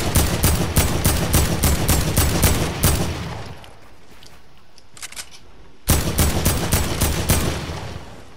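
An AK rifle fires in a video game: a loud, fast burst of automatic shots, a short lull with a couple of faint pops, then another rapid burst that runs to the end.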